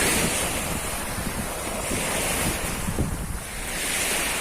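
Sea waves wash in and roll against a beach, a continuous surging roar with gusts of wind buffeting the microphone.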